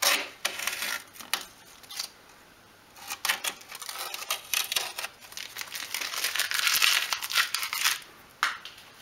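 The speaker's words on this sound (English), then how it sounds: "I'm going to make a start by removing the masking tape." Masking tape peeled off a wooden dolls house kitchen, a close run of crackling, crinkling tears and small tapping clicks that come and go, without speech.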